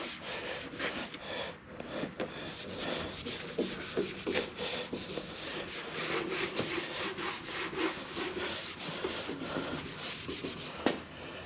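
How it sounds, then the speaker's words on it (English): Rubbing and wiping of a cloth soaked in wax and grease remover across a Mini Cooper body panel being prepped for paint, a steady close scrubbing texture with repeated strokes and no talk. "everywhere you're going to paint, you wipe it with the wax and grease remover"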